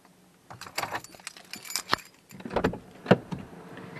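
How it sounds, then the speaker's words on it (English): A set of car keys jangles and clatters as it is put down in a hot garage during an oil change on a 2016 Dodge Dart SXT, with scattered metallic chinks over a low background hum. "set my keys down"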